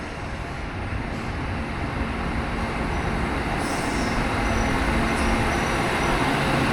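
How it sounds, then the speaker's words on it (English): A train arriving at a station, a loud steady rumbling roar with a broad low drone that slowly builds, and faint high squeals appearing near the end. "Now here comes my train now."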